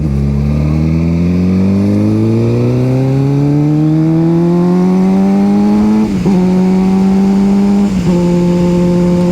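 A 2008 Suzuki GSX-R750 sport bike revving steadily higher while riding, loud and close, with two brief dips as it shifts gears.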